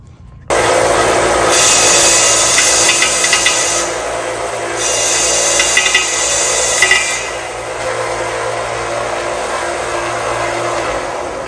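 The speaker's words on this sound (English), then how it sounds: "So I just went over it with my die grinder with a flat disc." A die grinder with a flat disc grinds a 3-inch stainless exhaust pipe, making a continuous loud, harsh whir that swells in pitch and intensity during several passes, close up with no talking.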